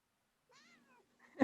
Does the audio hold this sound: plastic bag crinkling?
no